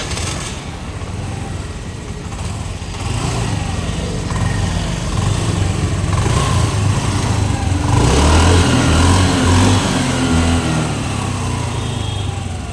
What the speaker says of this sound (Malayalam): ഇനി വണ്ടി ഒന്ന് ജസ്റ്റ് ഒന്ന് സ്റ്റാർട്ട് ചെയ്ത് സൗണ്ട് നോക്കിയാലോ കേട്ടോ.